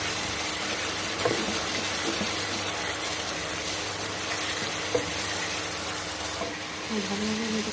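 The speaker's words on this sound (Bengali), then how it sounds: "আমার পেস্টটা লাল হয়ে গেছে, এখন আমি মশলাটাকে দেবো। কষানো হচ্ছে," Spice paste sizzling as it is sautéed and stirred in a pan with coriander powder and salt, a steady dense hiss that stays loud throughout with a few faint clinks.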